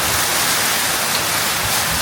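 Heavy rain pours steadily in Pokhara, a loud, dense hiss close by with no pause and no voices.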